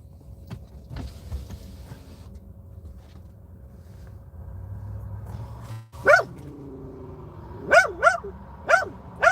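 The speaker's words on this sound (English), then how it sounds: "Hamper, stop barking at that child." A dog named Hamper barks in a few sharp, close bursts near a bus stop, after several seconds of low background hum and passing car noise.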